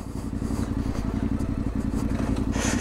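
Motorcycle engine chugs at low revs with a steady rumbling pulse while the bike bumps across a ploughed field, plants clattering and scraping against it, rising louder near the end.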